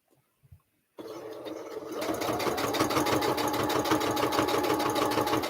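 A sewing machine runs steadily while quilting a quilt-as-you-go block through batting, starting abruptly after a second of near silence with a couple of small taps, then settling into a continuous, even mechanical whir close by.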